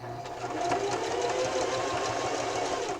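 A sewing machine runs a slow, careful zigzag stitch around a Valentine pillow, a steady close mechanical whir with rapid needle ticking, unbroken for the whole stretch.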